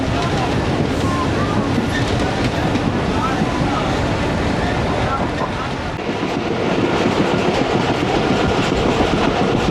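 The 228DN Dera Ghazi Khan shuttle train runs on a branch line from Multan Cantt to Kot Addu with a loud, continuous rumble and wheel clatter, heard from inside a moving coach.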